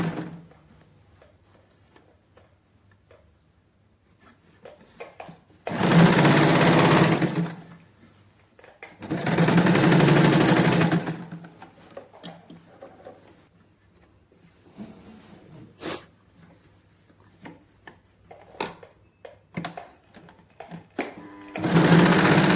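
A sewing machine stitches a dress's shoulder seam at a half-inch marking in two loud, steady bursts of whirring needle clatter, each a few seconds long, separated by quiet fabric handling and small clicks.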